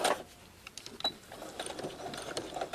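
Sewing machine stitching across a zipper on a dashiki print dress, a steady close mechanical whir with light clicking from the mechanism, heard alone without talk.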